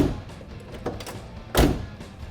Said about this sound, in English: You get that great sound and close of the door